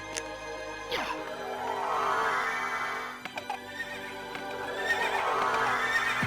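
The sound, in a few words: horses neighing and galloping in video game Castlevania Requiem SoTN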